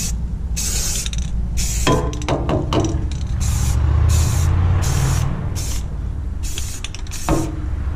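A spray paint can hisses in repeated bursts while painting a snowblower, several short and longer sprays separated by pauses, loud and close over a low background rumble.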